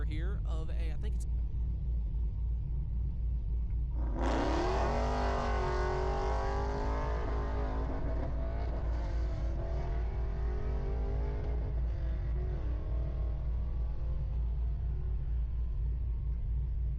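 Pro Stock drag racing car launching at a dragstrip, a sudden loud roar that rises in pitch and then fades steadily into the distance, with someone talking over it.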